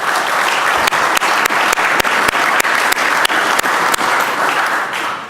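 Applause in the Virginia House of Delegates chamber welcoming officers of Law Enforcement United: loud, dense, sustained clapping from many hands filling the room, with a few sharper individual claps standing out before it tapers off at the end.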